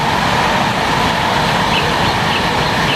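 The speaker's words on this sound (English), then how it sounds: "Hear the train coming past." Continuous loud broadband rumble and rushing roar of a train passing close by, steady throughout with no voices.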